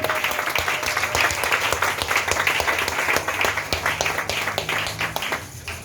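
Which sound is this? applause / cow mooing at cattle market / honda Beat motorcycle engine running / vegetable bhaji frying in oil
applause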